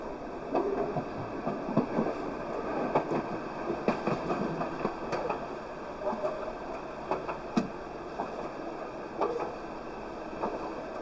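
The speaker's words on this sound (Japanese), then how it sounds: "電車は山手線渋谷新宿池袋方面行きです。" Yamanote Line commuter train running in the PlayStation 2 game Train Simulator Real, a steady rumble of wheels and motor with faint clicks, continuous at moderate level.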